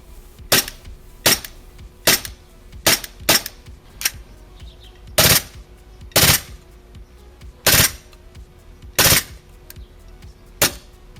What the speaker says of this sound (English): as you saw, the gun does shoot semi-auto and full auto mode